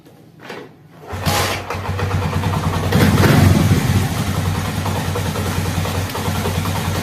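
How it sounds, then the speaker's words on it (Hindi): A Honda CD 70 motorcycle engine cranks and catches at about one second, then settles into a steady loud idle, swelling briefly as it revs up before evening out again. "अब हम बाइक को स्टार्ट करते हैं"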